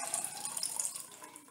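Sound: water being poured into essential oil mixture

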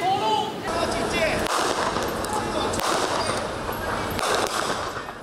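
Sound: blank rounds gunfire echoing in night street drill

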